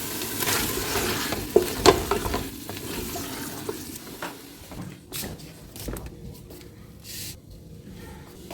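Batter-dipped potato fries go into hot oil with a sizzle and a few sharp clatters early on, then the frying settles into a softer, patchy crackle with occasional bumps.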